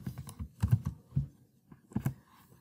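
Keys tapped on a computer keyboard in short, irregular bursts of clicks with brief pauses between, close and fairly quiet.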